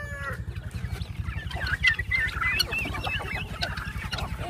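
A flock of backyard chickens cluck and squawk continuously and close by, with scattered higher calls over a low rumbling background, and no talk.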